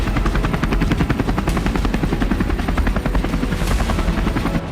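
A Bell series helicopter flying, its rotor thumping in a loud steady rapid beat throughout, close and unbroken, with no voices.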